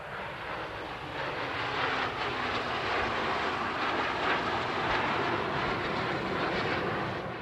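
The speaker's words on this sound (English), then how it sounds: "that was just the snowbirds flying by" Snowbirds aerobatic jets flying past at the 2016 Abbotsford Air Show, a steady broad roar of jet engine noise that swells gently and holds for several seconds, fairly distant and unbroken.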